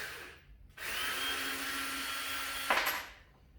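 A cordless drill with a flat battery whirs for about two seconds at a strained, sagging pitch, then cuts off with a short clatter.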